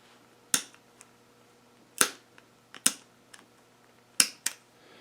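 Sharp plastic snaps as knockout pieces are broken out of a work light switch, several separate cracks spread over a few seconds with quiet gaps between, close and crisp.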